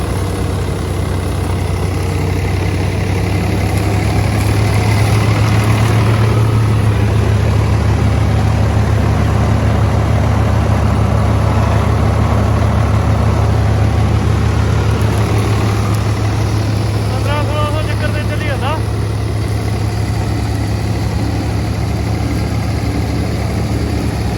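A 36-speed Swaraj 855 tractor runs a Jagatjit straw reaper with a loud, close, continuous engine drone that stays steady throughout, plus a faint rattling burst near the end.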